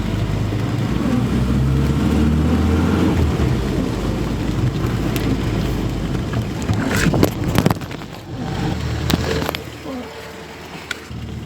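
An MG Midget driving down a lane, a steady loud engine and road rumble with scattered rattling knocks toward the end.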